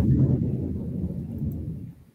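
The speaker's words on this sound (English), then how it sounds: "I think that's a thunder at my place" Thunder rumbles low and heavy through a short stretch, a close, steady roll that slowly fades out, with no voices over it.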